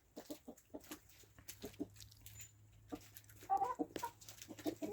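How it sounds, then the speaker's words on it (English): Chickens and cockerels cluck in a farmyard flock, short overlapping calls scattered throughout, a few louder clucks standing out near the end over a low steady hum. "Oh, look here, the cockerels come in."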